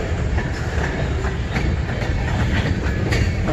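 Westbound freight train rolling past close by, a steady loud rumble with rhythmic clattering wheels on rail joints throughout.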